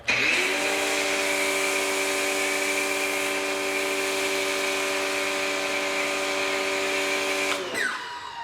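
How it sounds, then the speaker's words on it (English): A 3800 psi, 2.8 gpm Teande smart pressure washer with a digital display sprays foam on its highest setting. Its loud, steady motor whine and spray hiss run continuously for about seven seconds, then cut off abruptly. "I have it on the highest setting in the pressure washer, and here we go."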